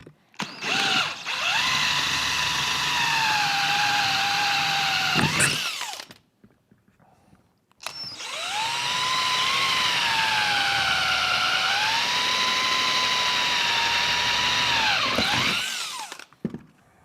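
Power drill re-drilling rivet holes in a Squarebody truck vent post, two long steady whining bursts of about five and eight seconds with a brief pause between, loud and close with no talking.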